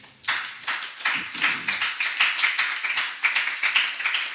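A church congregation at a French-language prayer service claps in a steady, rhythmic beat, sharp repeated hand claps filling the room for several seconds without a break.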